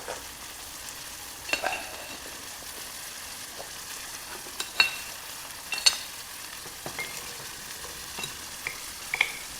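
Water boils and sizzles around freshly cast hot aluminum bars with a steady hiss, broken by scattered sharp pops and crackles. No one speaks.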